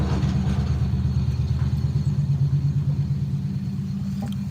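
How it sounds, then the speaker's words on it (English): A truck rolls past with a steady, low, pulsing engine rumble. It stays fairly loud throughout and eases off slightly toward the end, with no voices. "This truck coming back."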